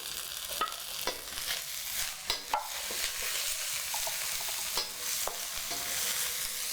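Garlic and chili stir-fry in a pan for an Indonesian glass noodle dish, a steady hiss of sizzling oil punctuated by sharp scrapes and taps of the spatula, close and without talk.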